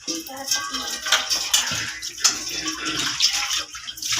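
Water pours steadily from a household tap in a hot-weather home setting, a continuous splashing rush with some clinks of vessels and faint voices beneath.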